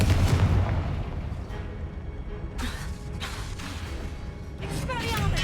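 Booming blasts of the Confringo fire spell in the Hogwarts Legacy video game, a few deep explosive hits over a rumbling battle background with some talk mixed in.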